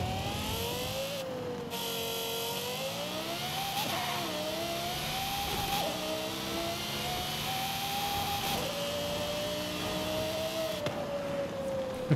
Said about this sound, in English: LFA engine, this is insane. One of the best sounding engines, hands down.